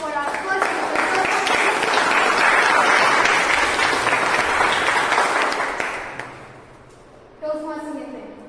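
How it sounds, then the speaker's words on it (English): Audience at a Toastmasters meeting clapping for the first speaker, a dense, steady burst of applause that gradually fades, with someone starting to speak near the end. "Can we have a huge round of applause for our first speaker?"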